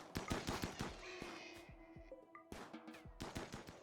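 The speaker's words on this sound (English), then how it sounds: "We're gonna get a couple shots off here." Rapid bursts of gunfire ring out in the video game Rimworld, sharp repeated shots in quick clusters with brief pauses between volleys and ringing tones beneath.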